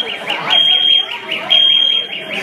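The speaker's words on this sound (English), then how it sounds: "He set off a freaking fire alarm." A building fire alarm sounds loud and close in repeated high electronic bursts, with people talking over it.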